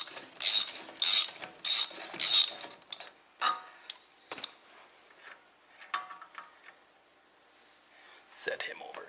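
A ratchet wrench turning a large socket on the front wheel hub nut of a Suzuki Samurai, giving four loud, evenly spaced bursts of clicking followed by scattered fainter clicks and light handling noises.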